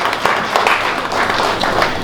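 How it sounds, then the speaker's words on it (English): Continuous round of applause from a gathered audience of medical colleagues at a SAMA 2019 ceremony, many hands clapping steadily with faint crowd murmur, loud and close. "We can sustain the round of applause."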